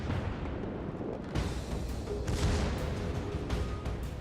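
Naval gunfire in the World of Warships game, heavy booming salvos over a dense rumbling battle din, loud and continuous with sharper blasts at intervals.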